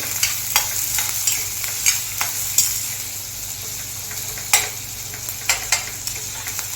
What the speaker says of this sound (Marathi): कांदा परतून घेते कुकराला